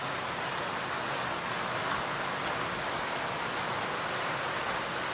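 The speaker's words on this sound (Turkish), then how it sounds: "Çok sulu yağıyor ve güzel yağıyor." Heavy rain pours down steadily, a dense, loud hiss of drops hitting surfaces with no pauses or voices.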